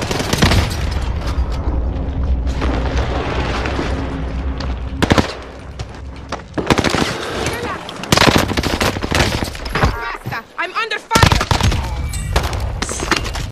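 Rapid automatic gunfire from the Nikita weapon in the Warzone video game, sustained bursts with brief pauses and sharp individual shots, loud and close, with occasional faint voice chatter in the background.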